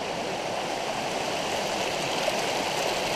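A small creek flows on the Loyalsock Trail in Loyalsock State Forest, swollen after wet weather, giving a steady close rushing and gurgling wash of water with no voices.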